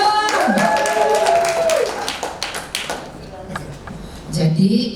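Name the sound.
audience clapping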